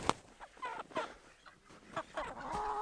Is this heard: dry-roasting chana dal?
no